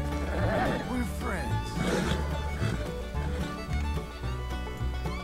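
Horse neighing loudly during the taming of a wild mountain horse, a harsh whinny rising over continuous background noise and voices across the whole stretch.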